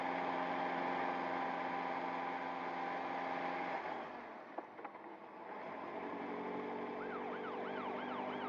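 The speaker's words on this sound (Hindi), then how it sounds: "पुलिस की गाड़ी आ रही है, नीचे छुप जाओ।" A police car siren approaches, starting as a low steady hum and then turning into a faint, wavering wail that rises and falls toward the end.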